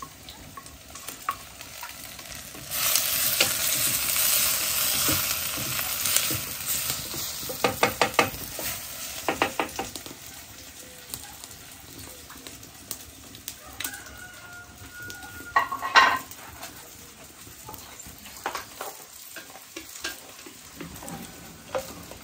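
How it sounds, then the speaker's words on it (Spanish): Chopped tomato goes into a hot pan with seasoned ingredients for nopal and grasshopper tostadas, setting off a loud, steady sizzle and frying hiss, with scattered stirring scrapes and utensil clicks over it. "Es momento de que le agregue yo el jitomate picado."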